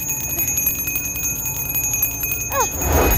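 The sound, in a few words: bell ringing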